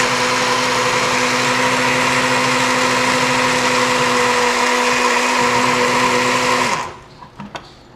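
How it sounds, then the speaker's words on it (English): A HERRCHEF smoothie blender runs at a steady, loud, high whine for several seconds, then cuts off abruptly, leaving a few faint clicks and knocks. "And you just put it like that and blend it."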